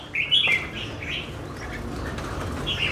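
Caged songbirds in a bamboo cage at a small backyard bird-keeping corner. Close wings flap in a quick burst at the start, and thin chirps and tweets sound over a steady outdoor hiss.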